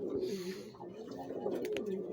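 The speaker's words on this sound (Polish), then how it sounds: "To jest gołąb, który przyleciał no pewnie koło 19." A racing pigeon gives a soft, low coo that rolls on in short throaty pulses, close by and fairly quiet, with faint rustling in the background.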